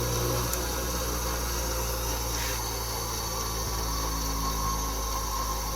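Wissota EZ Sharp ice skate sharpener with its motor running steadily, a constant close hum with a faint higher whine and no pauses throughout.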